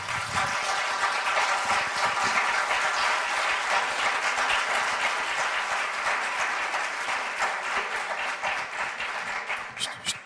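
Sustained applause from an audience at a nurses' debate in Braga, dense steady clapping that fills the whole stretch and thins slightly near the end.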